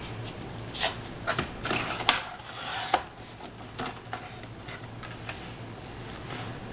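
Paper being trimmed for a Christmas folio: soft rasping and scraping strokes with light ticks, close and quiet, repeated irregularly with no talk.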